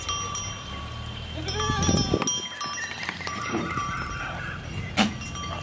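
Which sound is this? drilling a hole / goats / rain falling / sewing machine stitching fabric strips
goats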